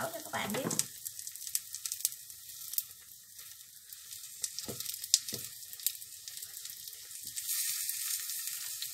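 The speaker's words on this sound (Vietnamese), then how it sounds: "mình sẽ chiên cho hết cái số bột của mình nha các bạn" Rice flour batter cakes sizzle and crackle in hot oil in a pan, a steady close hiss broken by a few sharp spits and pops throughout.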